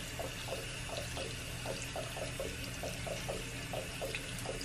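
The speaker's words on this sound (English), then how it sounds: "Next, you're going to lightly rinse off your frog." Water runs steadily from a tap into a sink to lightly rinse a frog, a continuous hiss with faint repeated splashing as the stream hits the animal, with no talking.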